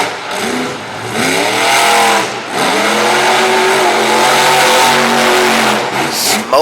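A monster truck at a monster truck show in Radford, Virginia, revs its engine loudly in rising and falling surges while spinning and smoking its tires, close and powerful throughout.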